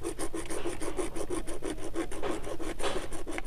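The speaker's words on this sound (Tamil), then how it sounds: "இப்போ இந்த 1 இன்ச் பைப்பை நம்ம ஒரு 10 cm நம்ம கட் பண்ணிக்கலாம்" A 1-inch pipe being cut to a 10 cm length with a hand saw, steady rhythmic rasping strokes, close and continuous, with no talking.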